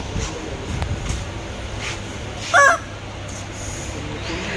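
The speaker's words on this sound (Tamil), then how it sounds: "இந்த ஹாரன் வேணுமா?" A bicycle horn gives one short squawking honk that sounds like a chicken clucking. It rises briefly over a steady low background hum.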